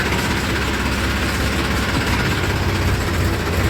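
A tractor engine runs close by, a steady low rumble with even, continuous loudness throughout.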